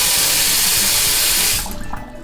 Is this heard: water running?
yes